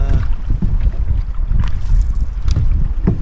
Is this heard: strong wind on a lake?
yes